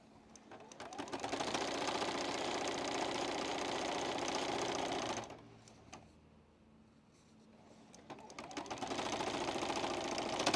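Sewing machine stitching binding onto a quilt, a steady whirring hum for several seconds, a brief pause while the fabric is repositioned, then the motor starting up again.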